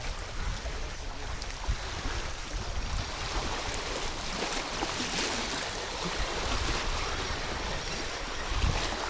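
Strong wind blowing across a microphone on a riverbank along the Volga, a continuous loud roar and buffeting rumble that swells slightly toward the end, with no voices.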